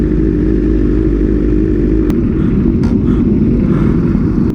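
A group of motorcycles rides together, their engines droning loudly and steadily up close with no break.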